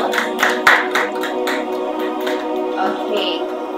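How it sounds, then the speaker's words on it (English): Audience applause at a pageant launch and sashing event, a scattered burst of clapping hands over a few seconds, moderately close, thinning out toward the end. "let's give them a round of applause"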